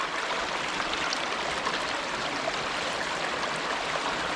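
Water runs steadily through a small Scottish burn used for gold panning, with a continuous near babbling rush and no voices.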